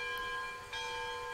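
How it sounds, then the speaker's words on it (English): A locomotive bell rings in Railroads Online on a logging line, a sustained metallic tone with ringing overtones, steady and clear with a brief dip midway. "And then we can do things like ring the bell."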